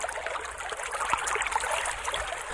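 Water trickling steadily through a flooded area and a fire pond fed by meltwater, a continuous bubbling stream with small gurgles, moderately near and with no voices.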